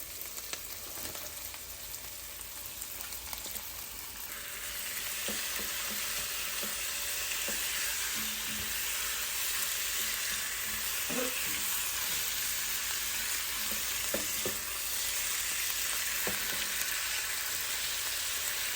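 Pork sautéing for menudo in a hot pan, with a steady, loud sizzle throughout and light scraping and stirring knocks scattered over it.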